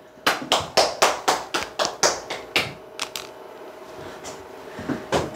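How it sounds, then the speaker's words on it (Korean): A handful of sharp, evenly spaced claps ring out close by, about ten in a quick rhythm, then trail off into a few scattered taps in a quiet room. "박수"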